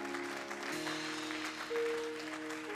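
A church congregation applauds in a steady wash of clapping, while sustained keyboard tones ring underneath throughout.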